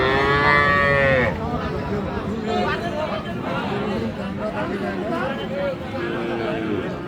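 Cross-Friesian cattle at the Aftabganj livestock market in Dinajpur let out one long, loud, close moo at the start. Steady crowd chatter and market hubbub carry on underneath and continue afterward.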